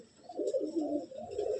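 Pigeons at a loft in Bamangachi, among bloodline racing birds, give soft, low, rolling coos, fairly faint and continuous, with no talk over them.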